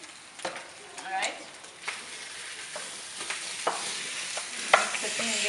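Tomato paste being stirred into beef stew in a pot: a spoon scrapes and knocks in irregular strokes over a soft sizzle, close and moderately loud, without talk.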